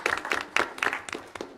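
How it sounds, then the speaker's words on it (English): Brief round of applause from an audience at a board committee meeting, scattered hand claps rising and falling over about a second and a half, fairly quiet and heard without speech. "if we can just give them a round of applause"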